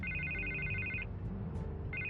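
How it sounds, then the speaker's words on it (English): A telephone rings in the Batman Telltale Series video game, a steady electronic trill that pauses briefly and then starts again over a low background hum. "I can't get the phone to stop ringing."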